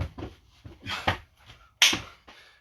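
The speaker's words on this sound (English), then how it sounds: "Nice jump and clap." A hand clap during a jumping burpee in a home workout session, heard as a few sharp slaps spread across a couple of seconds, the loudest near the end, with no talking.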